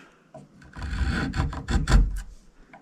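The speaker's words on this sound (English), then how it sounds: "So this time I'll hang on to the chisel really good and see how well it does." A chisel cuts into wood on an antique tool being restored, giving a short close scraping, rasping pass of about two seconds with a few sharper bursts near the end.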